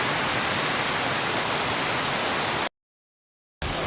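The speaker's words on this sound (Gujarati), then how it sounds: "હજી તો એટલો વરસાદ જે આવે ને ચાલુ છે હજી" Rain falls at the Junagadh market yard in a loud, continuous wash of patter. The sound cuts to silence for about a second, then resumes.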